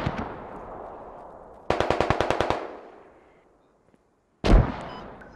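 Mortar strike explosions in the video game Squad: a rolling boom, then a rapid burst of about nine sharp reports, a fading tail, near silence, and a final loud blast with a long decay.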